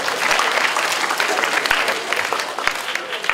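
Dense, continuous clapping from a crowd at a public university lecture for PT. Biofarma, loud and even throughout with a few heavier thumps beneath.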